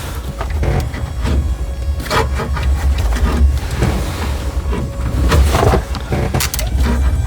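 Windshield wiper motor on a 1997 Ford F250 running continuously, a fairly loud, close whirring hum with repeated sweeping thumps as the wipers cycle, no voices.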